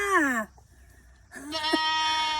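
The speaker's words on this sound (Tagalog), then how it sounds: "Ayun yung mga kambing" Goats on a rural farm bleat twice up close: a loud wavering call, a short near-silent gap, then a second, longer bleat.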